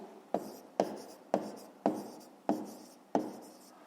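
Pen writing on paper while working a 5th-grade math exercise, six evenly spaced scratchy strokes that each start sharply and fade, close and quiet, with no talking.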